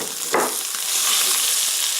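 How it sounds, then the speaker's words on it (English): Andouille sausage frying in olive oil in a hot skillet, a loud, steady sizzle that swells right after a brief clatter as the meat goes in, close up with no talk. "in a hot skillet, we're going to add just a little bit of this olive oil. Then we're going to take your andouille sausage and put straight on in there."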